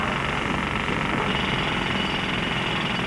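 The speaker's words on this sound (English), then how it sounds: "Now get back to that drill." A tunnel drill runs continuously underground, a loud dense rumbling roar with a rapid hammering vibration that holds steady throughout without pause or voices.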